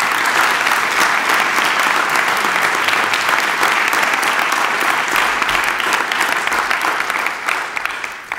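An audience in a church chapel in Fort Worth applauds to welcome a lecturer back for a second lecture, steady loud clapping from many hands filling the room before slowly thinning out at the end.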